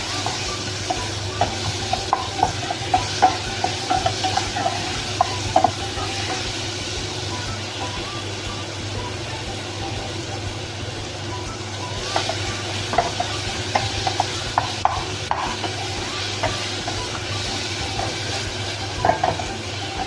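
Chopped tomato and green chili fry in a pan for an omelette, a continuous soft sizzle with scattered scraping stirs and clicks over a low steady hum, no talk.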